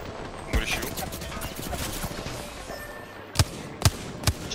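Gunfire in the video game Apex Legends: a single shot early, then three sharp, loud shots spaced about half a second apart near the end, over steady game background noise.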